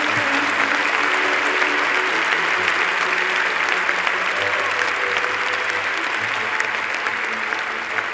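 Sustained applause fills a hall at an engineering faculty graduation ceremony for Aeronautics graduates, a dense, steady patter of many hands clapping for several seconds, with faint voices mixed in.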